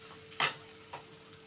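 Ivy gourd (tindora) frying in a pan, with two short scraping stirs over a faint background sizzle, the first louder than the second.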